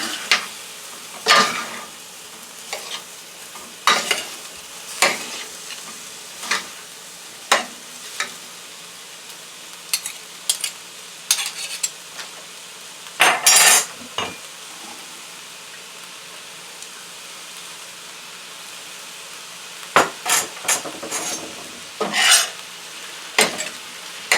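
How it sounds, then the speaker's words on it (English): Fried rice with shrimp and chicken being stirred and tossed in a big wok: sharp, repeated scraping strokes of a spatula at irregular intervals, with quiet sizzling between them. "let's act like this is like a big wok. We can mix everything together."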